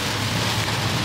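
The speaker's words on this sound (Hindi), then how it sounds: "बहुत ज्यादा बारिश हो रही है, बहुत मतलब एक्सट्रीम लेवल पे।" Extremely heavy rain pouring steadily during a monsoon day trip to Lonavla, a dense, continuous close wash of noise with no pauses and no voices.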